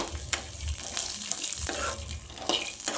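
Bonda ingredients fry over a medium flame with a continuous sizzle, while a spoon scrapes through the pan in several short, irregular strokes.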